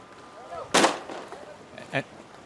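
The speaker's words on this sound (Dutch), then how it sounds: "En dat wie het schot voor Akkerum." A starting gun fires at a skûtsje sailing race in Terherne, one sharp, loud bang followed by a smaller second pop moments later, out in the open with faint background noise.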